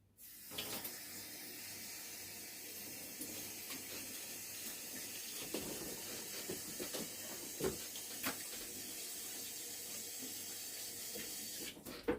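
Tap water runs steadily into a sink as hands are washed, a continuous broadband hiss with small splashes and clunks, close and fairly loud, stopping near the end.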